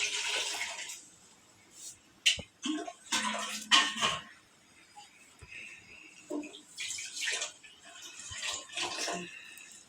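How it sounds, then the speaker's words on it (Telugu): Water is poured into a pot of simmering tamarind rasam in a home kitchen, making splashing, gushing bursts between quieter stretches, with faint household clatter around it. "కొన్ని నీళ్ళు వేసిన ఎందుకంటే నా చింతపండు రసం ఉంది"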